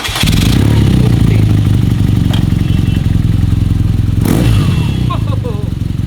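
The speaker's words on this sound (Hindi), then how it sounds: "स्टॉक एग्जॉस्ट है मेरे ख्याल से इसमें, और इसकी आवाज़ सुनाता हूँ।" A 1200cc motorcycle with its stock exhaust revs loud and close, a steady throbbing engine roar held for several seconds with a couple of sharp blips before easing slightly at the end.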